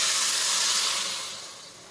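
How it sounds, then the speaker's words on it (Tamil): Water poured into a hot pan of frying dry fish sets off a loud burst of steamy hissing that gradually fades over two seconds. "இப்போது கருவாடு நல்லா வெந்து வர்றதுக்காக ஒரு 1/4 டம்ளர் தண்ணி ஊற்றிக்கலாம்."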